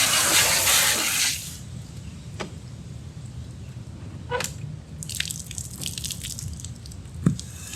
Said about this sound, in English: I like this table because it just drips right here.